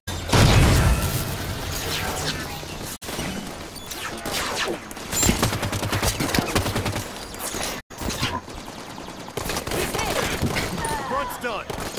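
Gunfire from the video game Halo 5: Guardians: rapid bursts of shots and booms crackle for several seconds, mixed with voices talking over the combat.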